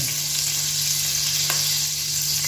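Curry leaves crackle and sizzle in hot coconut oil in a pan over a medium flame, a steady, loud frying hiss from close by with no voices.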